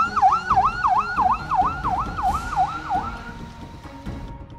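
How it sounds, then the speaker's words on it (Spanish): A wailing ambulance siren pulls into the cellblocks of the Penitenciaría del Litoral prison, its pitch rising and falling in steady repeated sweeps. It sounds fairly close and loud, then fades and drops out in the last second or so. "Esta es la segunda ambulancia que ingresa a los pabellones de la Penitenciaría del Litoral."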